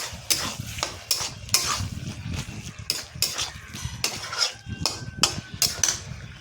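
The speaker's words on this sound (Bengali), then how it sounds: "এখন সামান্য একটু গরম মশলা দিয়ে এটা একটু নেড়ে চেড়ে দেবো।" A vegetarian sabji is stirred in a pan after garam masala is added, giving repeated sharp scrapes and clinks of a spoon against metal, loud and close, over a faint sizzle with no talking.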